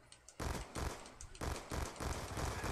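Pistol fire in a Call of Duty Nuketown match: a run of sharp, fairly close shots in an uneven rhythm, four or five bursts over a couple of seconds, with no talk over them.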